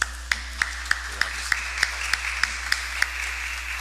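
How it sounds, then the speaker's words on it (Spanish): A church congregation at a Saturday Eucharist claps in a slow, steady rhythm, about a dozen evenly spaced claps that ring against a low constant hum in the hall. "Entonces también el aplauso."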